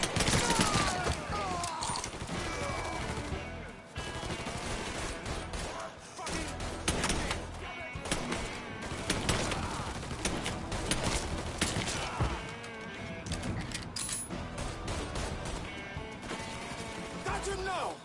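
Near-constant game gunfire from a PS4 shooter: dense bursts and rapid volleys with crashes, loud throughout and mixed under excited talking.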